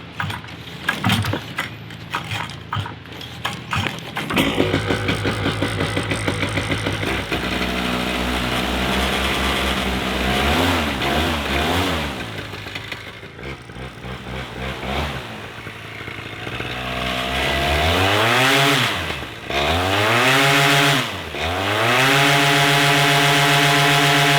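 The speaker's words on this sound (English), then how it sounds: "run this engine up, make sure it's running by itself well enough" A small two-stroke paramotor engine, long unused, buzzes loudly and close up, idling roughly then revving up and down repeatedly in whining surges.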